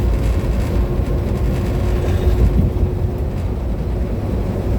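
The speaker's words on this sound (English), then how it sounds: "that's the sound of diesel fuel burning for no reason" A diesel truck engine pulls hard on a Texas overpass, a loud, constant low rumble and drone heard from inside the cab, with no talking.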